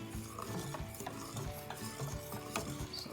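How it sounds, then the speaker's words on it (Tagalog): Homemade paint mixture being stirred in a container, a quiet run of rhythmic scraping and tapping strokes with no one speaking. "Stir lang natin siya, guys."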